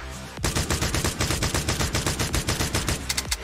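Rapid automatic gunfire from the PUBG video game played on a gaming phone with a rapid-fire trigger button, a loud, continuous burst of evenly spaced shots lasting about three seconds before stopping abruptly.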